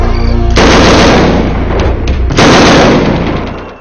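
Loud, dense gunfire roars close by during a Naxal attack on a CISF magazine post, two heavy sustained bursts with a brief lull between them and no voices.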